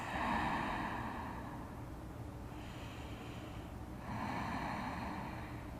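Slow, deep breathing during a wide-legged yoga forward fold, long airy inhales and exhales swelling and fading, close and quiet with no talk.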